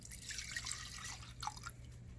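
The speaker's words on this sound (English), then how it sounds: "So we're going to pour in 2/3 of a cup of the rubbing alcohol." Isopropyl rubbing alcohol is poured from a bottle into a container for homemade hand sanitizer, a soft close liquid trickle and gurgle with a brief splash midway, quiet and without talk.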